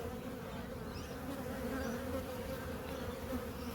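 Honeybees swarm around a beehive in a continuous, dense buzzing drone that holds steady throughout, with no voices.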